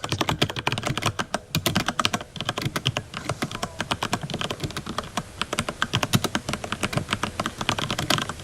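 Rapid typing on a computer keyboard, dense irregular bursts of sharp key clicks heard close up and continuing without pause, with no voices.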